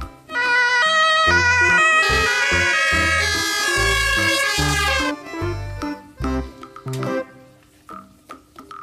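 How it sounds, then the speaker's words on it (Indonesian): Ambulance siren wailing loudly for about five seconds over a thumping musical beat, followed by the music continuing alone. "Ambulance. Ambulan."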